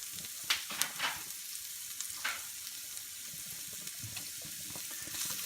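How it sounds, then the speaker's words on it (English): Green peppers and tomato sauté in a pan over high heat for a vegan omelette made with JUST Egg, giving a steady, close sizzle broken by a few sharp scrapes and stirs near the start. "I have it up on high heat just for the purpose of kind of sauteing the vegetables and the ingredients in the omelet"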